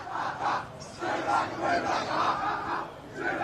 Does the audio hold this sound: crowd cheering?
yes